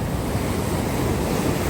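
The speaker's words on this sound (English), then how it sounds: "There's a big wave coming in right now." Big ocean waves surge in during flooding on the Wildwoods shore, a steady, loud, close roar of breaking surf mixed with wind buffeting, with no one speaking.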